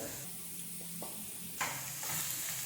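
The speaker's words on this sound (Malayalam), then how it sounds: "ആദ്യം ഒന്ന് ഇളക്കി കൊടുക്കാം." Garlic, green chilli and spring onion stems sizzle in a pan for a cabbage egg stir fry, a steady soft hiss with a few stirring scrapes, close and fairly quiet.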